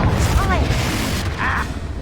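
A Confringo blast spell explodes in a video game: a loud, sustained, booming rumble with broadband crackle that fills the whole two seconds, with a brief higher whoosh partway through.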